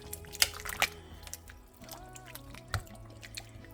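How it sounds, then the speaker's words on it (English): A spoon stirs chicken broth and other ingredients in a crock pot, giving soft wet sloshing with a few sharp clinks against the pot, fairly quiet and without speech. "Now I'm going to go ahead and stir all this around."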